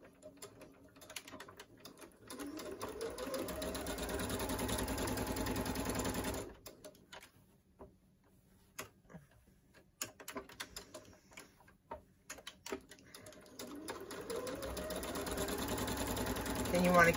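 Sewing machine backstitching a fabric face mask, with bursts of steady mechanical stitching that pause and restart, close and fairly loud, with a voice talking between the runs.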